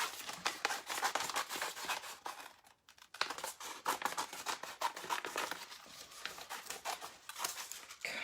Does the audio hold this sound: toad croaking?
no